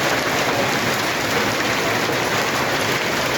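Heavy hail, with stones as big as eggs, pounds down in Agstafa as a dense, steady roar of impacts that never lets up, with no voices.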